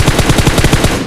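Rapid automatic gunfire in the mobile battle-royale game PUBG Mobile, a loud, close burst of about a dozen evenly spaced shots in just over a second.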